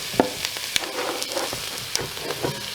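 Garlic added to translucent onions frying in a pan for vegan Cuban black beans, giving a steady crackling sizzle with a few sharper pops and stirring knocks, close up with no talk.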